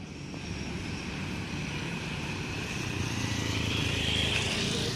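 A Hino RK bus engine running at a small, busy terminal for executive buses, heard as a steady, loud, broad engine roar and whine that swells slightly toward the end, with no talk.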